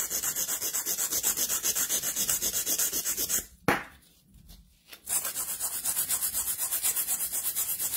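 Coarse nail file rubbing back and forth to shape a sculpted gel nail, steady rhythmic rasping strokes close up, pausing briefly in the middle before resuming.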